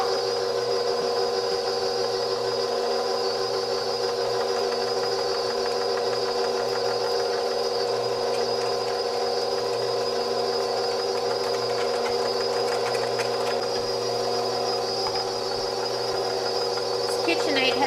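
A KitchenAid stand mixer with a grinder attachment grinds meat in a steady, moderately quiet motor whine with a constant tonal hum, running unbroken throughout.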